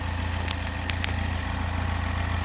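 A replacement engine in a Mini Cooper idles steadily in the background, a constant low mechanical hum with a faint regular pulse, joined by a few brief clicks.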